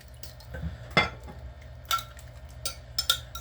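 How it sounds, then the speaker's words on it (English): Soft scraping and a few sharp clinks of a utensil against a bowl as wet ingredients are stirred into dry ones for a pickle loaf batter, quiet and close. "you have to pour the wet ingredients into the dry ingredients and you stir just until it's combined"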